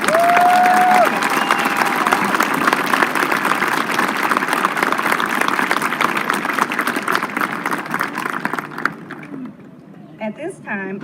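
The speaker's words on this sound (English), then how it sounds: "Please give these students a big round of applause." A graduation ceremony crowd applauds students with sustained, dense clapping that thins out near the end as a voice begins speaking.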